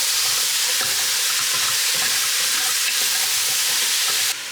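Onions, garlic, brown sugar and spices for a drunken pork stew sizzle loudly and steadily in a pot while being stirred, with faint scraping strokes throughout and no voices.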